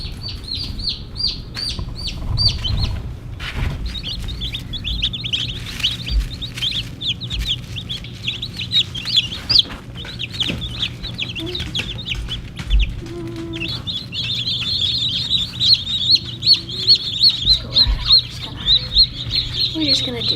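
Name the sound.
newly hatched chicks cheeping under the brooder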